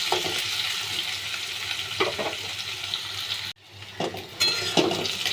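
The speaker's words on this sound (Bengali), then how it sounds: "দেখুন, ভালো করে আলুটা একটু পেঁয়াজের সঙ্গে ভেজে নিতে হবে।" Potatoes and onions fry in a pan on a gas stove with a steady loud sizzle, interrupted by scraping bursts of stirring and one brief drop in the hiss; no one speaks.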